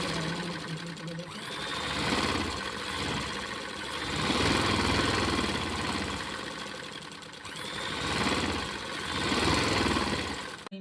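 A sewing machine stitches a folded cloth neckline with a continuous close whirring buzz that swells and eases in long waves, running mostly alone throughout.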